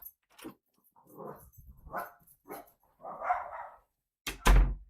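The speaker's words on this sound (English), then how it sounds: "What are you barking at, buddy?" A dog barks several times in close succession, the sharp barks spaced irregularly, with the final bark loudest and close to the microphone.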